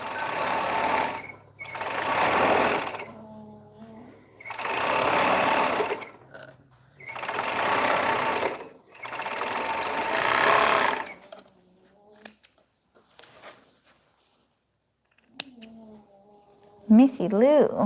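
Sewing machine running in loud, even bursts of about two seconds each, five in a row separated by short pauses, then quieter clicks and a few words of speech near the end.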